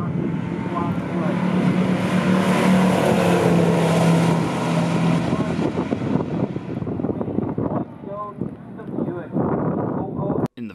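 A 1970 Buick GSX and a 1971 Plymouth Duster drag race down a quarter mile, a loud sustained engine roar buffeted by wind, fading into quieter crowd and commentary noise with a voice speaking.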